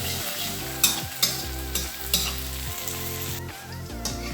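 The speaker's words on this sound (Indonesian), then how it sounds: "Terus aduk-aduk sampai kering." Spicy Bandung-style tutug oncom being stirred in a frying pan until dry, with a steady sizzle and repeated scraping strokes of a spatula, several sharper clacks against the pan, no voices.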